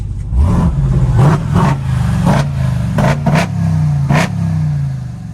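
A 2021 RAM TRX pickup truck engine revs repeatedly, rising and dropping in several sharp bursts over a deep, rumbling idle, loud and close.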